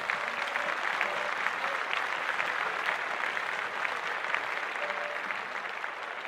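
Steady applause from a crowd for Tom Brady's first game broadcasting, dense continuous clapping at moderate level lasting the whole stretch, with no talk over it.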